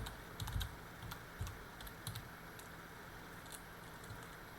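Close computer keyboard typing as a command is entered in Minecraft, a quick run of light clicking keystrokes over a low background hiss, no voices.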